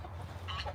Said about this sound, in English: roosters are trying to show each other up right there